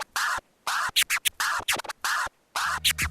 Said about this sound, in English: that's the sound of turntable scratching